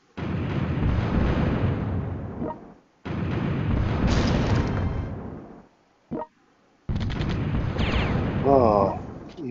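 Rocket artillery in World Conqueror 4 fires in long roaring barrages of booming explosions, cut by short pauses and one brief blast, ending with a whistling streak.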